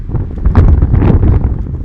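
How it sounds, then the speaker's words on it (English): Wind blows outdoors in El Paso, Texas, buffeting the microphone with a loud, low, rumbling roar in short gusts. "It's a little bit windy, and I don't know if you guys could hear everything I'm saying"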